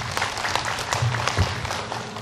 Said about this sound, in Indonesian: Buat tepuk tangannya jamaah.